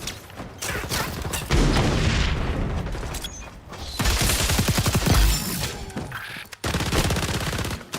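Gunfire and explosions from XDefiant roar in loud, dense bursts, heavy booming hits mixed with rapid shots in three surges separated by short dips, close and intense with no speech.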